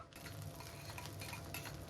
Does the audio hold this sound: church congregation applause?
no